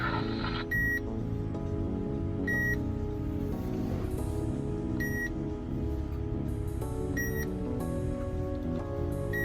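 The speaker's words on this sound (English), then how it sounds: "the button beeps on the RadioShack 12-254" Short electronic button beeps from a RadioShack 12-254 radio chirp at intervals, about five of them, over a steady background hum.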